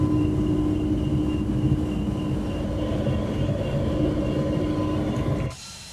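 A simulated Airbus A320neo jet roars steadily through its takeoff run in X-Plane 12, a dense rumbling engine drone with a faint whine that drops away abruptly near the end.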